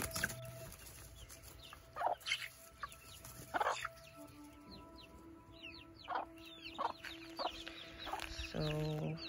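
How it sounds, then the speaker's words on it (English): Hens cluck and chatter with a rooster among them in a backyard flock with a mother hen and six-week-old chicks, bursts of clucks scattered across the clip over a steady background hum. "So, the black-tailed one is a rooster."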